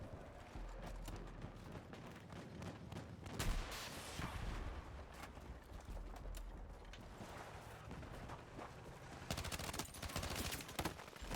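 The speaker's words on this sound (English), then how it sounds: "Here comes another tank" Gunfire and a tank rumble through a Battlefield 6 battle, with bursts of rapid shots, heavy low booms and clattering impacts that keep up for the whole stretch, loudest near the start and end.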